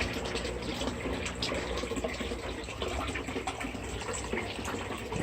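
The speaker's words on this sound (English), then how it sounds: "And we've got some water flow." Water in a home aquaponics system flows and splashes steadily, a constant close rush of pouring liquid with no voices.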